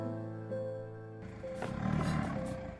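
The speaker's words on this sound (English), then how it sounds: "Tiger." A tiger roars with a low, rumbling growl that swells midway, mixed with a faint steady tone; moderately loud with no speech.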